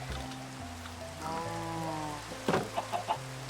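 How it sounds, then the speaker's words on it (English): Minecraft chicken clucking on a farm with a barn, a short run of clucks followed by a few brief taps under a soft game background. "Oh, the chicken made a bolt for it."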